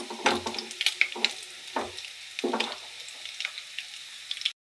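Chilli chicken pieces fry in hot oil, a steady crackling sizzle broken by bursts of louder spattering and stirring, close and clear with no talking.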